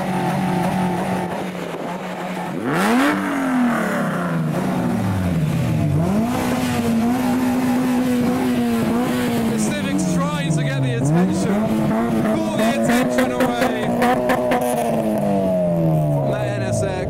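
A heavily modified Nissan GT-R at a large JDM car show revs hard in repeated rising and falling bursts, loud and close, with pops and crackles over crowd noise and people talking.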